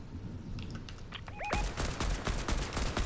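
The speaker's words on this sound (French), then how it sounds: "Oh, je me suis pris un autre snipe" A sniper rifle shot hits the player in a video game, a sharp impact landing midway amid dense gunfire and rapid battle noise that continues loudly to the end, with a brief rising tone just before the hit.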